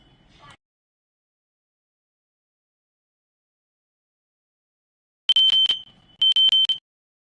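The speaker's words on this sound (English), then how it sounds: "So they're testing the alarms because we're going to be getting a new roommate pretty soon." Smoke alarm test in a home: after a long quiet stretch, a loud, shrill electronic alarm sounds in two bursts, each a rapid series of piercing beeps on a single pitch, with a brief gap between them.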